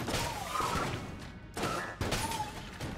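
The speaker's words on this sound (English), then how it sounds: "That was a good explosion." Bursts of explosions in the video game Enter the Gungeon, a few thumping, crashing blasts in quick succession amid busy game effects.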